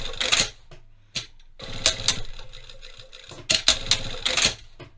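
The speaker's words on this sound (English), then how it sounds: "we want to do some tacking right here where our pockets attach" A sewing machine tacks back and forth over a trouser pocket attachment point, giving short bursts of stitching separated by brief pauses, close and clear with no talk.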